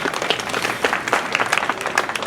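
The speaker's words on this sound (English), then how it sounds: "please stand or raise your two hands and applaud" A crowd at a farewell party and celebration of life claps together, a brisk, busy patter of many hands with a few cheers mixed in, fairly close and sustained.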